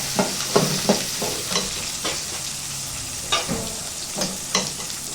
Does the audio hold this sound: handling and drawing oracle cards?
no